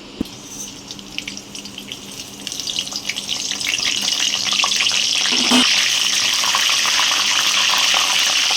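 Whole spices, bay leaf, cumin seeds, dried chilli, cinnamon, cloves and cardamom, hitting hot oil in a wok for potato curry, the faint crackle swelling into a loud, continuous hissing sizzle that holds to the end.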